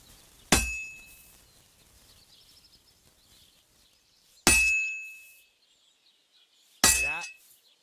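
Three ringing hammer blows on heated metal at an anvil in Kingdom Come Deliverance II, each a sharp bright clang with a lingering metallic ring, spaced a few seconds apart with quiet between them.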